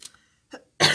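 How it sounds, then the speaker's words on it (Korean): One sharp, loud cough bursts out at the end after a couple of faint breathy sounds and a short pause, heard close up indoors during a casual eating broadcast. "기침 왜 나지?"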